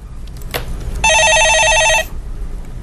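A telephone rings with a steady electronic warbling tone lasting about a second, loud and close, after a brief click, with no talk over it.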